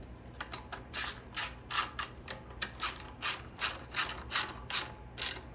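Ratchet wrench tightening bolts on the bracket of a Ridgid 6800 watt generator, a steady series of about a dozen sharp close clicks in an even rhythm.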